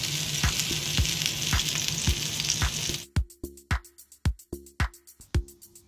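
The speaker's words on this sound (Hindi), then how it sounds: "का तवा है, मैं उसके ऊपर इसको फिर से ग्रिल कर रही हूँ अच्छी तरीके से।" Skewered kebabs sizzle on a hot tawa griddle, a dense frying hiss with sharp ticking pops, then the hiss drops away leaving a string of crisp spaced clicks and taps.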